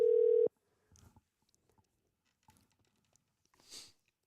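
A phone call connects with a brief steady tone at the start, then quiet line noise with faint clicks and a short rustle.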